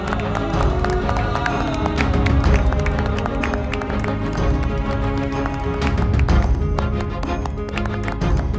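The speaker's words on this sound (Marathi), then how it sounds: "तुमच्या नव्या मैत्रिणीसाठी जरा टाळ्या वाजवा की." A group claps for a new girl friend in a school scene from a Marathi TV drama: dense, steady applause that keeps going throughout, with some voices mixed in.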